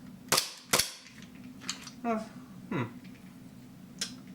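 An EMG Pit Viper gel blaster fires two sharp close shots in quick succession, followed by scattered mechanical clicks and a final snap, while someone talks in between.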